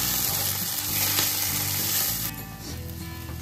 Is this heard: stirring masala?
yes